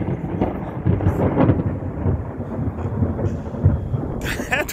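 Thunder from a storm rolls and rumbles loudly over a rooftop for several seconds, deep and continuous, with a brief sharp crackle near the end.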